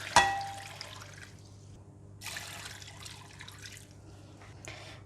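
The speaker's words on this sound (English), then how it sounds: "I'm going to add water." Water poured from a faucet or jug into a cooking pot of potatoes and carrots, a soft trickling splash that runs in two bursts with quieter gaps between them.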